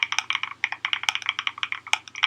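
Typing on a budget hot-swap mechanical keyboard with a decent case and good switches: a steady, fast run of crisp, close keystrokes with an even clacking rhythm and occasional heavier presses, heard alone with no talking.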